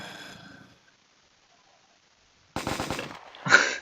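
Video game gunfire downing police officers, a rapid burst of machine-gun shots after a quiet gap, followed by a louder blast, preceded by a faint fading sound.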